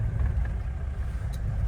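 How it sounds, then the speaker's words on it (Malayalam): A bus rumbles past on a forest road near Podiyakkala by Peppara Dam, a steady low engine drone that stays close and loud throughout, with no voices. "ഇതെന്ത് ബസ്സാ പോയത്?"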